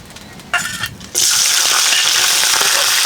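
Cooking oil hitting a hot pan for a vegetable bhaji, a short splash and then a loud, steady sizzle that fills the rest of the clip.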